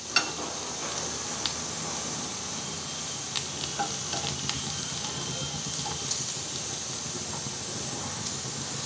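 Kashmiri red chili lightly frying in a pan with a steady soft sizzle, with occasional faint stirring clicks throughout and no voices.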